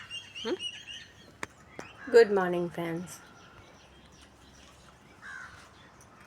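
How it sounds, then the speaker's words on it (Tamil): Crows squabble outdoors, giving a few harsh, ragged caws in a short burst, then a fainter call later, with a person speaking in between. "சரி காக்காவே சண்டை போட்டுக்குது பாப்பா"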